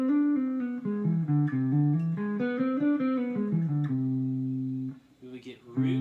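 Guitar running quickly through an augmented scale pattern, a rapid string of single picked notes climbing and falling, then a held note before a few faint closing touches.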